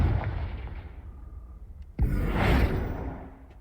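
A fiery Confringo curse cast in a Harry Potter video game, a sudden whooshing blast that swells into a roaring burst and fades away after a quieter rumbling lead-in.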